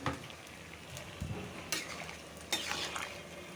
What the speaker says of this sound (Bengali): আবার এই চুলায় পেঁয়াজ ভাজতেছি